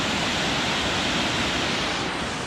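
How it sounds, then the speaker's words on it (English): Waterfall at Taughannock Falls State Park roaring as a steady, broad rush of falling water, constant and fairly loud throughout with no voices. "then we got another cool waterfall."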